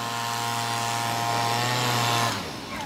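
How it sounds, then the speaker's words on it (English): A leaf blower runs at high speed outdoors, a loud, steady engine whine and rushing air that holds for a couple of seconds, then drops off sharply as the throttle is released. "That is crazy leaf blower madness."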